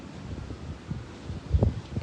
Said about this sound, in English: this wind is not...